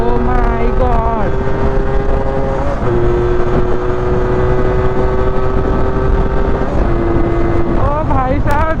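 Yamaha ZR 125 scooter engine droning steadily while riding, with a sustained tone that shifts pitch as it changes speed, wind rush over the microphone, and a rider talking over it.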